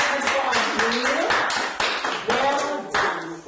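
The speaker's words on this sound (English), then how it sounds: "can you clap hands" Children at a holiday camp workshop clap their hands together in a busy, uneven patter. Voices and shouts from the group mix in close by.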